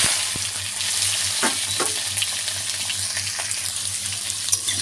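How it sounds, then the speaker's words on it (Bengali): Potatoes fry in hot oil with bay leaf and dried red chilli, giving a steady close sizzle with occasional stirring scrapes and faint clinks. "এটাকে ভাজা বসিয়ে দিয়েছি।"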